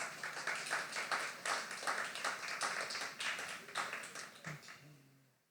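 An audience at a poetry slam applauds a poet, with steady dense clapping and some faint cheering that tapers off toward the end.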